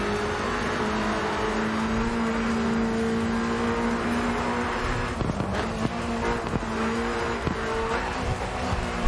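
Racing car in the video game GRID 2 driving through tight U-shaped hairpin turns, a steady loud engine drone with sharp bumps and scrapes toward the end, no talking.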